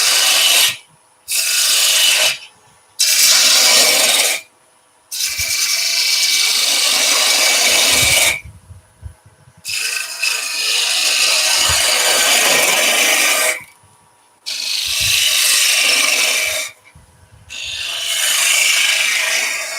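A spindle gouge cutting a deep cove into spinning wood on a lathe, a series of loud raspy scraping passes of varying length separated by short silent breaks.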